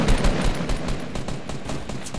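Rapid gunfire crackles through a shooter video game firefight, dense overlapping bursts sounding close and loud without pause for the whole stretch.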